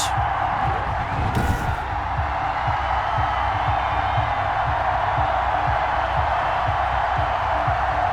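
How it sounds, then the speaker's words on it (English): A sellout stadium crowd at an Atlanta Falcons home football game against the Carolina Panthers roars continuously, a broad, dense wash of cheering and whoops that stays loud throughout. "Somehow this place got even louder a short time ago as the Falcons were introduced to this sellout crowd."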